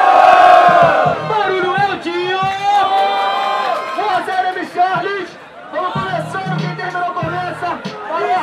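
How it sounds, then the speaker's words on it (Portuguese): Crowd at a street rap battle roaring and shouting in response to a call for noise, a loud, dense wall of voices that rises, dips briefly, then surges again. "Barulho para quem gostou mais da rima do MC Charles"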